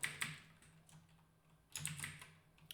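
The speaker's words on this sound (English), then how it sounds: "I'm not used to this keyboard at all" Quiet clicking of a computer keyboard: scattered bursts of keystrokes with pauses between them, close by in a calm indoor space.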